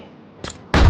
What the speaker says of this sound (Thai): โอ้โหระเบิดโคตรเยอะไม่ให้ผมพักหายใจเลย